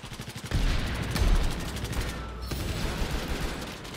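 Rapid automatic gunfire in the shooter Battlefield 4, a sustained rattle of close shots with a sharp burst near the start and continuing fire throughout, no talking.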